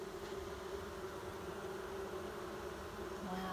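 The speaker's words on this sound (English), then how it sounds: "You can hear them buzzing in there" A swarm of bees hums in a front yard, a steady, faint drone that holds evenly throughout without voices.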